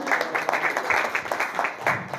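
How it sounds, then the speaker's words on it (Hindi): A crowd at a park inauguration claps in a steady burst of applause, moderately loud, with no voices over it. "इनके लिए एक ज़ोरदार ताली होना चाहिए"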